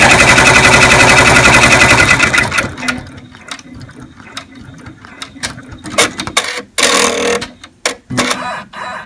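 An embroidery machine stitches a tack-down line across the center of a bow, first with a loud, steady mechanical whir of rapid needle strokes, then with scattered clicks and clacks of the moving mechanism.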